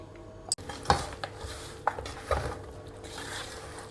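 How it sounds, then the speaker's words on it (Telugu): Yogurt and spices being mixed into raw chicken for dum biryani in a bowl, with a sharp clink of utensil on the dish followed by a few soft, irregular stirring and tapping sounds at close range. "ఇప్పుడు పెరుగుని కూడా దీంట్లో వేసుకుని కలుపుకుందాం."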